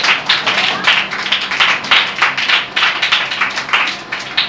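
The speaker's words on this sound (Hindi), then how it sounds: "यीशु मसीह के जलाल के लिए जोरदार तालियां बजाइए" A church congregation clapping steadily and loudly, brisk rhythmic claps filling the whole stretch with no pause.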